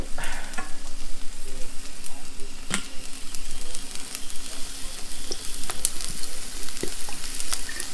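Soaked rice noodles for Pad Thai stir-fry with fish sauce in a hot pan, giving a loud, steady sizzle with frequent stirring scrapes and a few sharp clinks of utensils.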